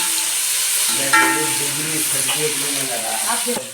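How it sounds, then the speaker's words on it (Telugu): Curry leaves dropped into hot oil, a loud close sizzling hiss that flares up partway through, with a person talking over the frying. "కరపాకు వేస్తున్నాను"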